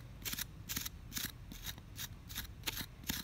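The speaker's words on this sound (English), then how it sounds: "I'm using medium pressure, nothing crazy, to start to blend these coils into each other" Serrated tool scraping clay coils on a handmade coil vase, about eight rhythmic rasping strokes at medium pressure, close and fairly quiet with no talk.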